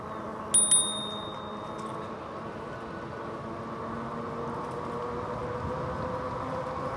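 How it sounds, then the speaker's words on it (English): A bicycle bell on a RadRover eBike gives two quick bright rings near the start, cutting over the steady hum of riding and road noise that continues afterward. "We'll have to hit them with the bell."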